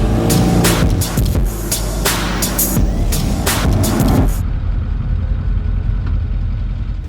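A heavy 11,500-pound welding rig truck roars close with choppy, uneven bursts of engine and tyre noise as it spins donuts, then settles into a lower, steadier rumble for the last few seconds.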